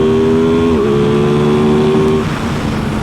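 A motorcycle engine revs up in traffic, a loud sustained rising drone heard from the rider's position, then the pitch drops as the throttle eases near the end.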